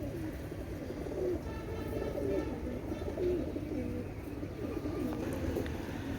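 Teddy pigeons coo steadily in low, throaty murmurs, several birds overlapping close by in a continuous rolling drone.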